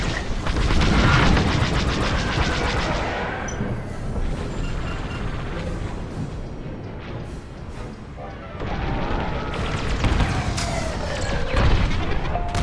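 Space combat explosions in Star Wars: Squadrons, loud booming blasts and crackling bursts over dense engine roar and whooshing, with a rumbling lull before more heavy impacts.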